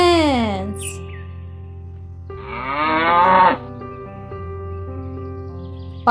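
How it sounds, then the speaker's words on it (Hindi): A buffalo lows with two long, drawn-out moos, the first falling in pitch and the second rising then easing off, loud and close with a steady low hum between the calls. "भैंस"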